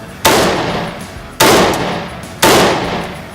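A rifle fires three loud, close single shots in semi-automatic mode, spaced roughly a second apart, each with a short decaying echo.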